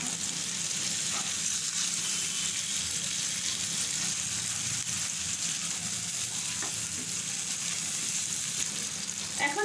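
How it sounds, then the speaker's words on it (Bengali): Long-cut pointed gourd dropped into well-fried spices in a hot pan, a steady, loud sizzle and crackle of frying that holds evenly throughout with faint stirring scrapes and no talking. "এখন আমি দিয়ে দিচ্ছি ধুয়ে রাখা পটলটাকে"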